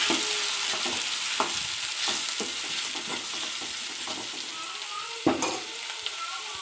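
Tomatoes frying in a little oil in a pan while being stirred: a steady close sizzle with irregular scraping stir strokes throughout and a sharper clatter near the end.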